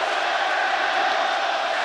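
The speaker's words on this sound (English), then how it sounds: "Try getting booed like that in your own home park." A baseball stadium crowd boos a visiting player in one sustained, dense roar of voices, loud and unbroken from start to end.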